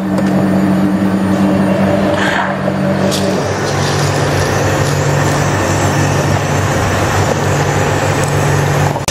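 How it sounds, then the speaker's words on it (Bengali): A commercial coffee machine grinds beans for a caffe latte, a loud steady mechanical whirring drone with a low motor hum that runs continuously and shifts pitch slightly partway through. "বিনসটা স্যার এখানে গ্রাইন্ড হচ্ছে"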